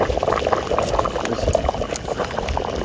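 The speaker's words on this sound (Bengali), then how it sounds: "কি একটা বলক আসছে।" A pot of water comes to a rolling boil over a campfire stove at a hillside tent camp on a trek, its dense bubbling close, steady and loud with no voices.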